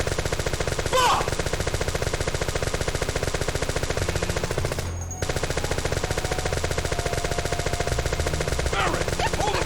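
Rapid sustained automatic gunfire from Barret's gun arm in Final Fantasy VII, a loud continuous stream of shots with a brief break midway, accompanied by game effects.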